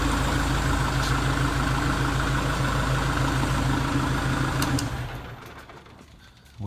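A Kubota L4060 tractor engine idles in a steady, loud rumble with a rhythmic chug, then winds down and falls quiet near the end.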